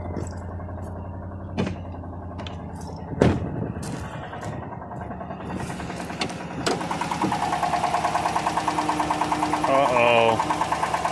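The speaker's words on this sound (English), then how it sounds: "I bet it's got a collapsed lifter and a bent push rod" A car engine with a collapsed lifter and bent pushrod cranks with a few isolated thumps, then fires and settles into a rapid, steady ticking knock that grows louder, heard up close.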